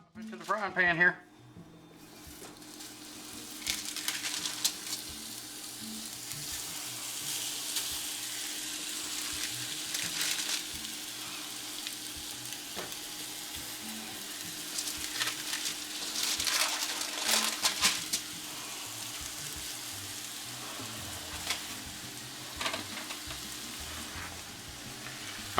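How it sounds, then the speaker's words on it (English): Steady sizzling of Salisbury steak patties frying in a pan, a continuous crackle broken by occasional louder bursts, with soft talking in the background. "Into the frying pan here."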